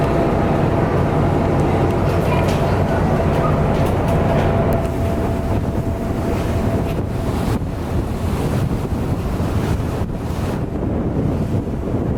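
Boat heading out to sea from Koh Phangan toward Donsak in Thailand, with steady surf and wind buffeting the microphone throughout, a constant loud wash of water and rushing air with no talk.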